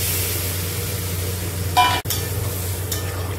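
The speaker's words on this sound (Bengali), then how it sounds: "এবার এর মধ্যে আমি এই যে সিদ্ধ করা ডালটা দিয়ে দিলাম।" Boiled moong dal poured into fish-head masala in a pan, giving a steady hiss of frying with a brief splashy burst and stirring sounds, close and alone without talk.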